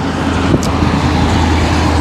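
Heavy road traffic on the KMP expressway rolls past as a dense, continuous roar of cars and trucks, close and loud, with a brief passing whoosh partway through and no talking.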